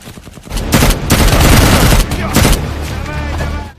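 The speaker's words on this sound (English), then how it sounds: "Mike and Danny tried to fight back by returning fire" Dense bursts of gunfire from a war movie battle scene, loud rapid volleys and rattling automatic fire stacked close together, with brief pauses and a fading tail.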